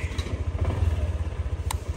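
A motorcycle engine idles close by on an island road, its low thumping pulses beating in an even rapid rhythm, with a short click near the end and no talk.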